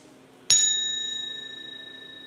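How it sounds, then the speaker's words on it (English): A small chime struck once, a bright clear ding that rings on with a slowly fading sustained tone over quiet room hiss. "Little chime for the Sunday."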